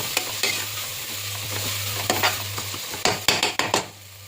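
A handful of mint and coriander leaves fries with ginger garlic in a pan for a soya chunk vegetable biryani, a steady sizzle broken by loud scraping strokes of a ladle against the metal, close by.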